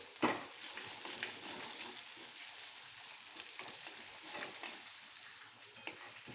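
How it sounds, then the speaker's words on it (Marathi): Gravy for a drumstick (shevaga) bhaji fries in a pan with a soft, steady sizzle and repeated stirring scrapes, fairly quiet and without speech. "एक दोन मिनटं छान ग्रेव्ही आपल्याला चांगली फ्राय करून घ्यायची"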